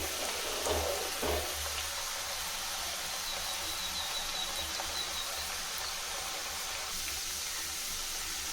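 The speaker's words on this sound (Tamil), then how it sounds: "கொஞ்சம் லைட்டாக பொன்னிறமாக வறுபடட்டும்." Garlic frying until golden, heard as a steady close hiss of sizzling oil that continues evenly throughout, with a few faint thuds near the start and no talk.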